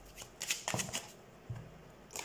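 Tarot cards being shuffled during a reading, a few quick close riffles and flicks in short bursts with gaps between them, no speech.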